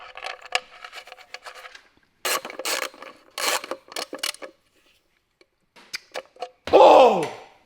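Ratcheting and metallic clicks in short bursts as a sump plug is tightened back into a damaged Lamborghini Urus, with a sharper metallic clatter near the end and gaps of quiet between.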